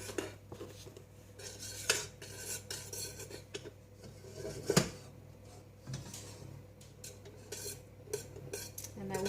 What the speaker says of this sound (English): So we just want to melt those down. Give them a bit of a stir.